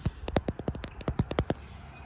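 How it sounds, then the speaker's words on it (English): Rapid bird chirps in a backyard, about a dozen sharp tweets in quick irregular succession, fairly close, then a quieter call trailing off. "You can hear the birds. Lots of birds out today."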